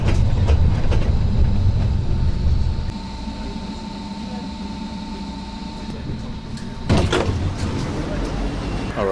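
Steady low rumble of a tram in motion in Warsaw, heard from inside, with a faint hum and brief clatter and murmuring voices near the end.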